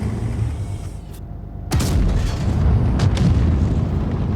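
A cannon fires in a video game, a sudden heavy boom that breaks in after a short lull. A rumbling tail and smaller pops and bursts follow under the ongoing game noise, with no talk.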